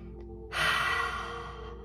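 A deep breath is let out through the mouth during a breathwork session, a soft breathy rush that starts abruptly partway in and fades gradually, close and unaccompanied by speech.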